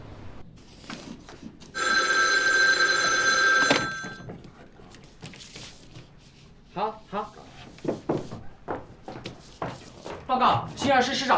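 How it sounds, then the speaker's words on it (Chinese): An old telephone bell rings in a continuous, steady, loud burst of about two seconds and then stops. Soft thumps and knocks follow, and people talk under and after the ringing. "西安市市长杜清时打来电话。"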